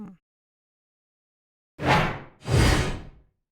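A gem recharge game sound effect plays as two quick rising whooshes in succession, the second fuller and longer, after a brief silence.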